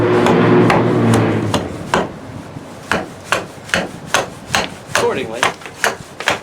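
An axe chopping wood while carving a spoon, a loud close run of sharp, evenly spaced knocks that starts denser and settles into a steady rhythmic beat of about two strikes per second.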